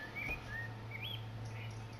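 A wild bird calls with a few short, thin whistling chirps, rising and falling, heard at moderate distance over a low steady hum.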